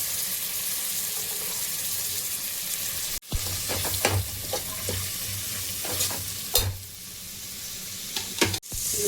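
Carrots and beans frying and being stirred in a pan for paneer pulao: a steady close sizzle with repeated scraping and clinking strokes, broken by a couple of brief pauses.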